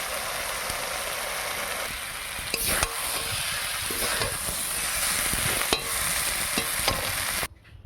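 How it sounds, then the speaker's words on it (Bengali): Young jackfruit curry cooking in a pan on a gas stove, a steady moderate sizzle with periodic stirring scrapes and clinks, fairly quiet and close, ending abruptly, with no voices. "হিঁচড়টা উনানে রান্না করিনি, নিরামিষ বলে গ্যাসে রান্না করে নিচ্ছি"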